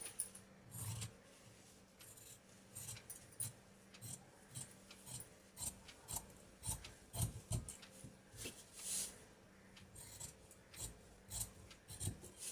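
Scissors snip through blouse fabric in a run of short, close, quiet rasping cuts with a brief pause before each, faint and without voices.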